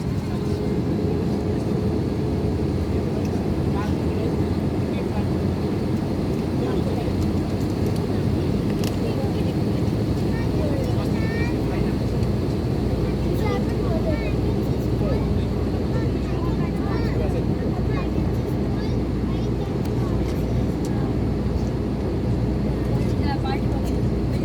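Steady, loud cabin roar inside a Nepal Airlines aircraft on approach to the runway, a constant engine and airflow rumble throughout with no break.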